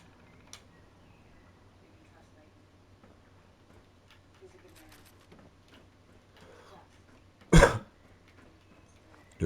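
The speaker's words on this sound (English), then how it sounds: "Do apologise for me coughing then." A quiet, muffled room with soft background rustling, then one sharp, loud cough bursts out near the end.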